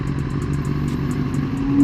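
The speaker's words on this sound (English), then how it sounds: "That sounds pretty good for a 4Runner." A Toyota 4Runner engine runs loud and close as a steady mid-pitched drone, rising slightly as it revs near the end, with a faint rhythmic ticking above it.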